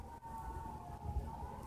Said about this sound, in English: I might as well just let the siren go, do its thing, and maybe it'll quit